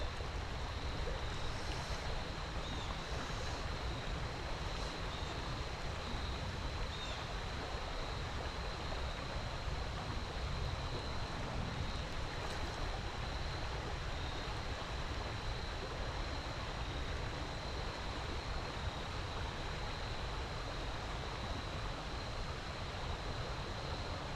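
Steady rushing of stream water where two trout streams meet, a broad, continuous wash close by with no pauses, alone without voices.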